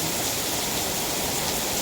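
A downpour of heavy rain hisses continuously and evenly throughout, close and dense, with no talking.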